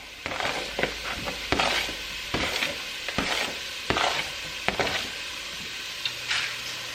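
Chopped onion sautés in oil in a pan for a Zuppa Toscana soup, a continuous close sizzle broken by repeated scraping strokes of a spoon or spatula at an uneven rhythm.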